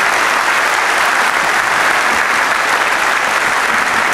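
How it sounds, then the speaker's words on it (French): A large crowd gives sustained, dense applause for the Europcar cycling team at its presentation in the Vendéspace arena, steady and loud from start to finish with no pauses. "Merci, on va tous les applaudir"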